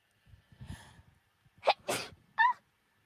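A person sneezes, with a soft sniffly intake building up to sharp, forceful bursts near the end, heard close and alone against quiet.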